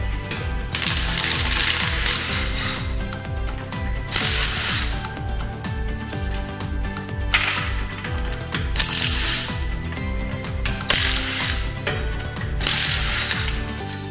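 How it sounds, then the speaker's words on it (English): An impact wrench with a 3/4 inch socket removes the front right wheel of a 2010–2014 Subaru Outback, hammering in loud, close, repeated bursts separated by short pauses. "we're gonna remove the front right tire by using a 3/4 inch socket and an impact wrench"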